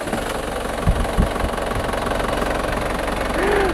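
An Isuzu Panther diesel engine cranks with a few sharp turnover bursts, then catches and settles into a loud, rough, steady idle with a constant rattling drone.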